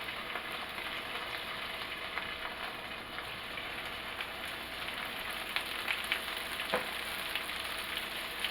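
Cabbage fries in bacon grease in a pan, a steady, dense sizzle with scattered crackles and pops that continues evenly throughout, close and moderately loud.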